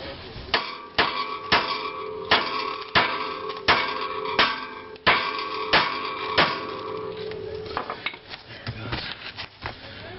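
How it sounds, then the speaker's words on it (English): A hammer smacks the lower control arm of a 1992 Integra while freeing the brake assembly: about a dozen sharp, ringing metallic blows land at a steady, fairly quick rhythm, close and loud, with lighter knocks trailing off at the end. "take a hammer and smack the lower control arm right here"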